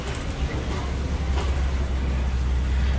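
The Simba 1 safari truck rolls along at Animal Kingdom, giving a steady low engine rumble and road noise heard from on board, with faint background voices.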